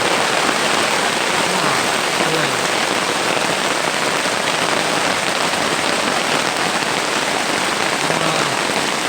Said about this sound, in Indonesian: Pas nyampai pas hujan.